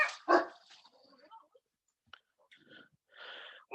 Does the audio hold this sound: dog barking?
yes